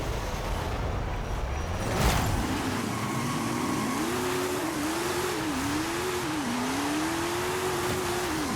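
A supercar of nearly 2,000 horsepower in Forza Horizon 5, its engine droning continuously and loud, the pitch rising and wavering as it revs and shifts, with no talk.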